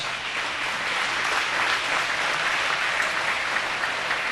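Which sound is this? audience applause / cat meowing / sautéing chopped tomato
audience applause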